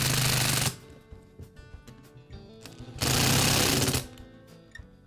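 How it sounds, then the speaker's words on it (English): An impact driver sinking screws into a new plastic housing for a Makita hammer drill, two loud rattling bursts of about a second each separated by quieter handling clicks. "I'm going to start each one with a handheld screwdriver, and then I'll finish it up with my impact thread."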